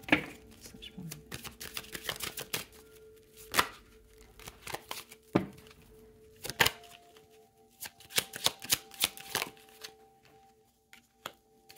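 Tarot cards shuffled by hand, a busy run of crisp riffling slaps and flutters with irregular loud bursts, fairly close, with a little talking here and there.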